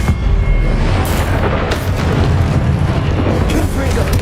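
Explosive Confringo spell blasts in a Wizarding World video game, with a loud continuous rumbling boom and crackling bursts that fill the whole stretch, dense low-end roar without pauses.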